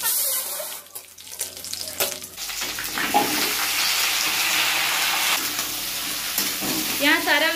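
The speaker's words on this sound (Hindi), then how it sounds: "तो ये सब से हम तड़का लगाएंगे अभी और सब्जी को फ्राई करेंगे।" Loud, steady sizzling of vegetables frying in hot oil for a tempering for South Indian sambar, with a few clinks and stirring scrapes at the start.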